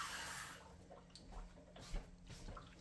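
Water poured from a tap or jug into a pan of cut apples for applesauce, a low steady splashing trickle with a few brief drips, close and moderately quiet, no talking.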